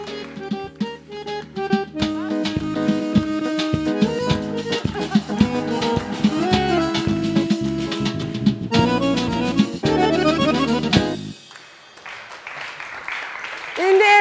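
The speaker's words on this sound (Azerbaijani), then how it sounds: "Bir alqış gəlsin. Əllə. Alqışlar gəlsin də. Alqışlarla." Audience applause rings out in a TV studio entertainment show after a host kicks a football, a few seconds of clapping rising at the end after loud music.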